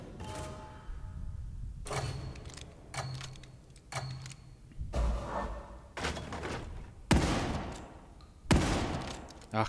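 Shotgun blasts from The Evil Within 2 land as a series of heavy, sharp reports spaced a second or two apart, with thuds and mechanical clatter between them and a voice talking in the background.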